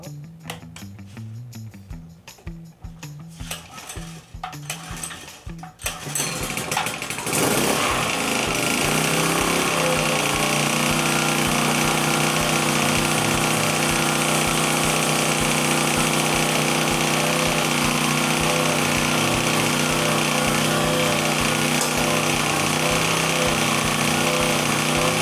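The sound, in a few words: Predator generator engine started with pull cord and running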